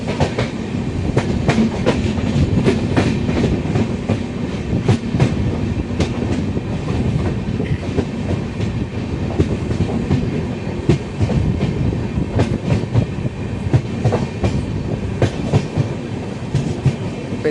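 An LHB-coach Chennai Egmore–Kollam Express runs at speed near Golden Rock station toward Tiruchirappalli Junction, its steady loud rumble carrying rhythmic clickety-clack wheel beats throughout with no talk.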